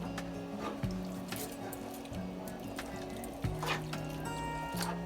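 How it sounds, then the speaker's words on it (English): A hamburger rice casserole with pepper is stirred in a pot, giving soft wet squelches and occasional light spoon clinks, quiet and close against a faint steady hum. "Now, after I add this pepper, you need to stir all this up."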